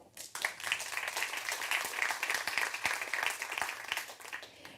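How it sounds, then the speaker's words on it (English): Audience applause at an agribusiness event, a few seconds of moderately faint, steady clapping from a room crowd. "Please give them a warm applause."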